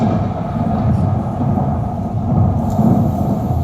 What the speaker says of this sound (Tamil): என்ன சத்தம்டா இது? புயல் மாதிரி இருக்கு.